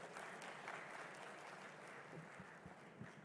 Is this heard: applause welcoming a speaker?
yes